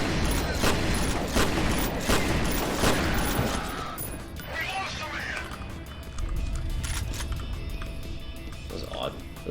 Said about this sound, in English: That was a really muffled explosion sound